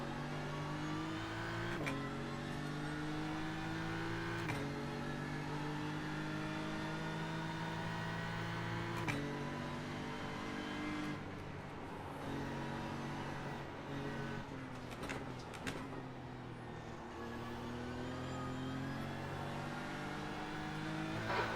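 Race car engines in a sim racing game during practice at the Nürburgring, steady high revs with pitch drops at each gear change, continuous and loud.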